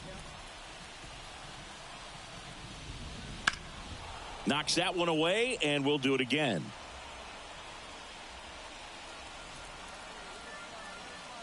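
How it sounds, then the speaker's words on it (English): Steady rain hisses softly over a baseball field in a video game, a constant even wash of drops heard throughout, with a commentator speaking briefly over it midway. "the field's not going to be able to hold up if the rain gets any worse than this"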